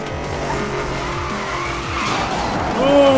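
Chevrolet Camaro ZL1 roaring through a race in the video game Need for Speed: Most Wanted (2012), with loud engine revs, gear shifts and tire skids, the engine note climbing toward the end.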